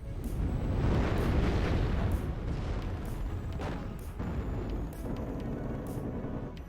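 Tank gunfire and explosions in the WARNO strategy game: a continuous rumbling barrage of booms with sharp distant shots landing every second or so, steady and heavy throughout.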